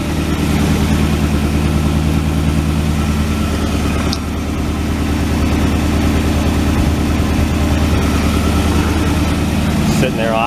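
A 1967 Ford Galaxie's engine idles steadily close by with a low throbbing rumble and even pulsing, its idle raised slightly and occasionally popping, running without a break.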